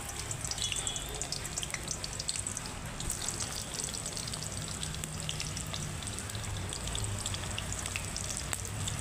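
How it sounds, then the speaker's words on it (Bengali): Bay leaves and sliced onions frying in hot oil, a dense, continuous sizzle and crackle close by with light stirring, steady from start to finish and cooked on a traditional clay stove. "এই যে তেলে এখন তেজপাতা দিয়ে দিচ্ছি আর পেঁয়াজগুলো দিয়ে দিচ্ছি।"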